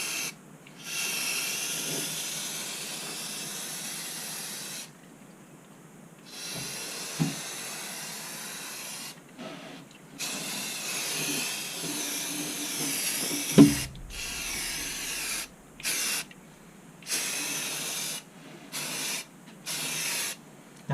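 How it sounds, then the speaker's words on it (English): Spray paint hisses in repeated bursts onto model railway track, a steady airy spray broken by short pauses and quick stop-start squirts, close to the microphone with no talking. "I am going to cover my mouth up with some protective gear here while I spray paint this"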